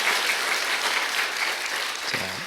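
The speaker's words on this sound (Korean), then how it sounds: "유년부 선생님들을 위해서 여러분 박수 한번 해주세요" Congregation at an early-morning church service in Gunsan, Korea applauds children's ministry teachers, a soft, even patter of clapping that sounds somewhat distant and holds steady throughout.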